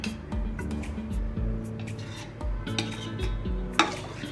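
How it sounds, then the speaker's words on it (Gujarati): Crushed pistachio stirred into sugar syrup in a pan: a spoon scrapes and clinks against the metal in an irregular rhythm, close and fairly quiet, with a soft wet swishing underneath. "Just mix all the pista crush that we have done and stir it well."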